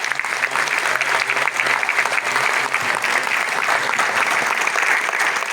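Loud, sustained applause from a large crowd honoring girls at a Dr. Babasaheb Ambedkar birth anniversary celebration, dense and even throughout with a faint low hum beneath.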